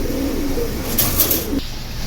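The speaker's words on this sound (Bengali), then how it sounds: "লাস্ট ফিনিশিংয়ে যাওয়ার আগে কয়েকটা কবুতর দেখাই।" Pigeons coo softly in a low, rolling murmur nearby, with a brief brighter chirp partway through, over a steady background hum.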